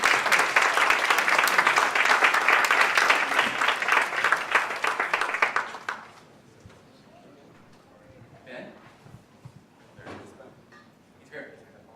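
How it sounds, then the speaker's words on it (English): Event audience at a StartupsHK panel applauds as panelists walk onto the stage, a loud burst of clapping that fades out halfway, followed by quieter shuffling and scattered knocks as the room settles. "Give them a round of applause"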